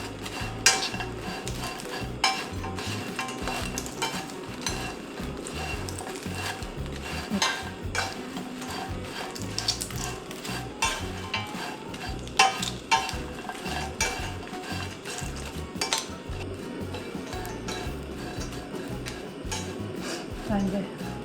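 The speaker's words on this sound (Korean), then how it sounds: "기름 없이 팬에다가 이렇게 하면 멸치 잡내도 날아가고 눅눅한 것도 없고" Dried anchovies are stir-fried in a dry pan without oil, giving a steady scraping and rattling as they are tossed and stirred. A faint crackle sits under the scraping, and a voice talks over it at times.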